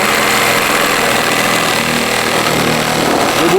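A Makita reciprocating saw labours through a piece of wood, a steady droning motor buzz with vibration held throughout at close range, no voices.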